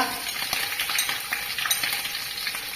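Dried red chilies, ginger, green chilies, curry leaves and garlic sautéing in hot oil for a Kerala kurukku kalan, giving a steady close sizzle and crackle with light stirring scrapes and no talk.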